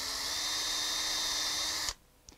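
A drill bores a shallow 1/8 inch hole in a wood turning blank with a steady high whine that stops abruptly, followed by a small tap.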